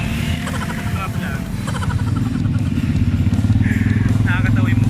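Rattling motor of a motorized tricycle during a ride, a loud continuous buzzing drone close by with voices chatting on top.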